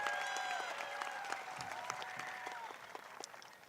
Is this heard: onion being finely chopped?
no